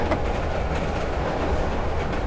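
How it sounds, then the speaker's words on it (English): A train rushes past in the horror video game Layers of Fear, a steady loud rolling rumble with clickety-clack rail noise lasting throughout, with no voices over it. "That baby just got hit by an imaginary train."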